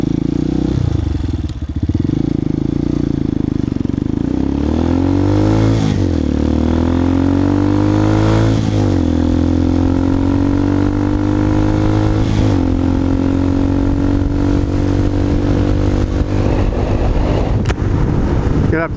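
A Honda Hawk 250 motorcycle fitted with an aftermarket exhaust revs and pulls through several gear changes while riding, its engine note rising and dropping repeatedly, loud and continuous throughout.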